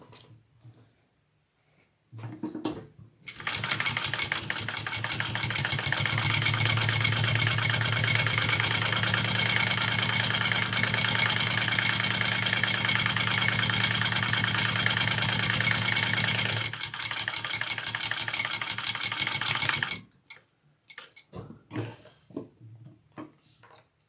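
A sewing machine runs basting stitches on a bag, a steady fast mechanical whirring that starts after a few seconds, holds for about seventeen seconds, then stops, with faint handling noises before and after.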